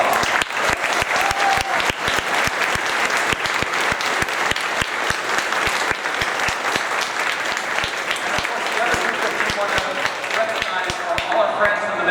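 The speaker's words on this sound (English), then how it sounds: "let's give them all a big round of applause." A large crowd at a state high school robotics championship tournament applauds steadily for the event volunteers, with dense, sustained clapping throughout and faint cheering mixed in.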